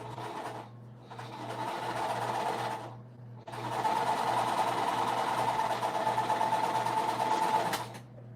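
A sewing machine stitching a quilt runs in two steady, close, loud bursts of even mechanical whirring, separated by a brief stop, with no talking over it.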